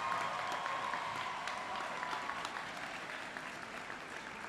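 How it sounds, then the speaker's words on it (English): Steady, fairly distant applause from a university graduation audience for a single Associate of Arts graduate, a continuous patter of many hands that slowly tapers off. "How about a round of applause for our one graduate Associate of Arts?"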